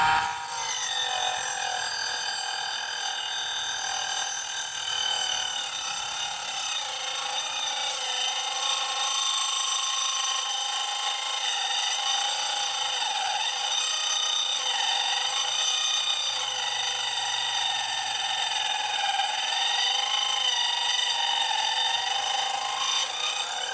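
An electric saw, run through a dimmer speed controller, cuts through a thick fresh tree root with a loud, steady, whining buzz that holds throughout, the tone shifting slightly as the blade bites.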